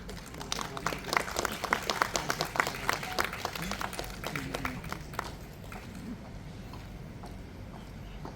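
An audience at a Malayalam film's success celebration applauds to welcome a family onto the stage; lively clapping builds and peaks in the middle, then thins and fades toward the end.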